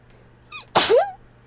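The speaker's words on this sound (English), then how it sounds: "though. Sneeze." A single sharp human sneeze, close and loud, preceded by a brief inhaled squeak and trailing off with a short voiced tail.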